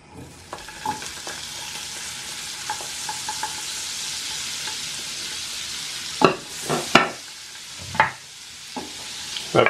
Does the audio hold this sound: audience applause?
no